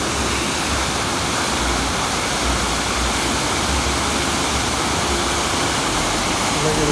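A waterfall at the Wynn Hotel in Las Vegas roars in a steady, broad rush of falling water, loud and unbroken throughout, with no voices over it.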